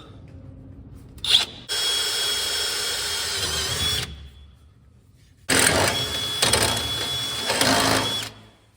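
A power drill drills into metal on a 1969 Pontiac Firebird in two long bursts with a brief pause between, a high whine over the grinding motor, close and loud.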